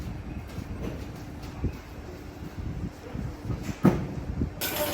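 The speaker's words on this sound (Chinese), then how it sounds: "长野是终点站，刚刚搭来的列车要转向回头。" Train at Nagano terminal station, a quiet low rumble of railcars with soft clunks and a brief louder knock near the end, heard from nearby on the platform or aboard.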